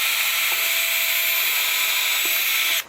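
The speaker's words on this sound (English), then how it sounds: "So I should be safe drilling over here, assuming it's a 16-inch stud wall." A power drill bores into a wood wall stud on a house exterior, a loud, continuous whine held for nearly three seconds before it cuts off abruptly.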